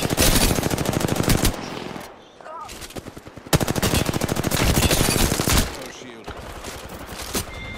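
Rapid automatic gunfire in the video game Apex Legends, loud, close bursts of fast repeating shots separated by short pauses, with voices talking faintly underneath.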